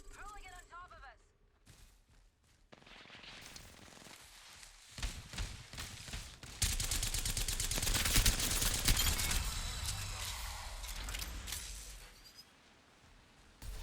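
Gunfire from hip-firing a weapon in Apex Legends builds into a long, loud burst of rapid shots that runs several seconds and then tapers off, with game effects and a voice heard near the start.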